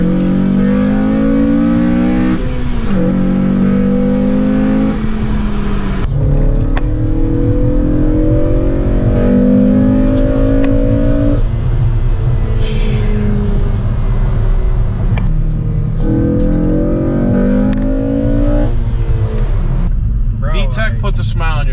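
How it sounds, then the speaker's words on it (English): A Honda K20 engine revs up repeatedly through the VTEC crossover, each pull climbing in pitch to a sharp howl before dropping back, loud and close, with voices talking between runs. "They want to hear that Vtec crossover."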